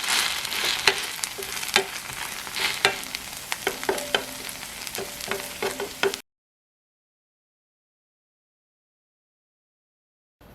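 Cabbage cooks in a hot pan with cooking oil, giving a steady close sizzle and frying crackle with scraping stir sounds for about six seconds, then sudden silence.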